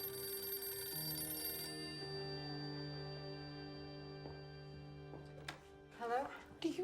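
A telephone bell ringing in a domestic TV scene, steady repeated tones over a few seconds, followed by people talking at the end.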